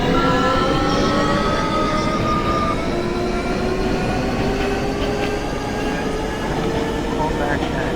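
An F subway train in the openBVE simulator game runs loudly and steadily, a dense rolling rumble with faint tonal whines and squeals layered on top.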